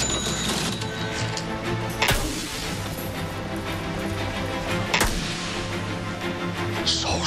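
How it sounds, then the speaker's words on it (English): Cash registers ring and clatter loudly in a television advert for Jet.com, with two sharp drawer or bell-like hits standing out over a dense, busy mechanical din. "Cash registers."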